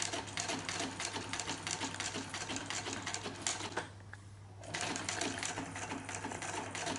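A beginner sewing machine stitches leather forward, a fast rhythmic clatter of the needle heard up close, briefly halting mid-run before resuming at the same steady pace.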